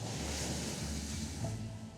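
Steady outdoor wind rushes and buffets the microphone with a constant low roar, loud and continuous throughout, with no voices.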